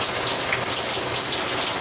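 Heavy rain pours during a storm, a dense, loud, even hiss of falling water with no pauses across the short stretch.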